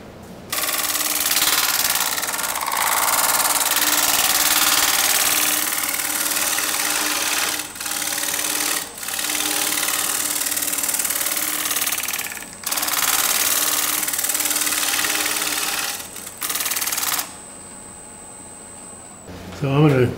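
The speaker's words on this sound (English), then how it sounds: "take a negative rake scraper and clean this up" A negative rake scraper cutting a natural-edge bowl on a wood lathe, a loud, steady whirring and rattling hum that breaks off briefly several times and then stops near the end, with someone talking over it.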